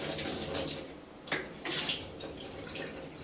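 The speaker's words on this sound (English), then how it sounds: "we're just going to see if water drains" Water running and splashing out of the tap of a homemade homebrew mash tun, a close, uneven gush that surges and eases in waves, with no talk.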